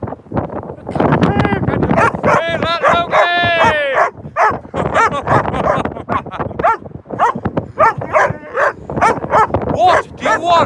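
A dog barks and yips repeatedly at close range, with whimpering whines between the barks and a person talking over them.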